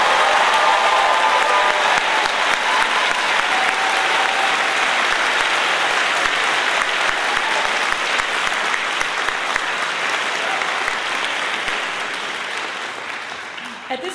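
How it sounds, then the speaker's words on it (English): At a medical school white coat ceremony, an audience gives a long, loud round of applause for the new student doctors. The clapping is sustained and dense for about fourteen seconds, then tapers off near the end. "a giant round of applause to all of our student doctors"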